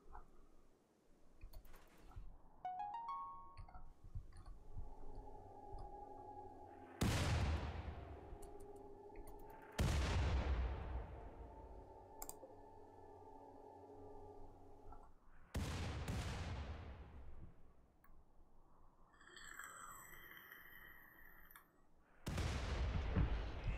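Mortar rounds fire in the RimWorld video game, four loud, heavy booms spaced several seconds apart, each decaying into a rumble, over quiet game ambience with faint ticking.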